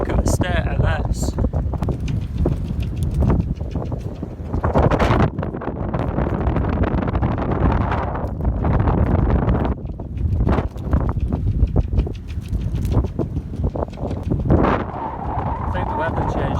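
Gusty wind buffets the microphone aboard a small sailboat anchored in wet, windy weather in the English Channel, coming in loud, rough bursts that swell and drop repeatedly.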